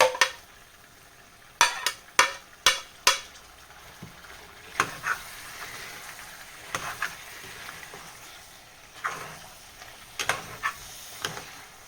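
Tomatoes are stirred into mutton masala frying in a pan, with a series of sharp clinks of a spoon against metal over a steady low sizzle, followed by softer scattered scraping knocks.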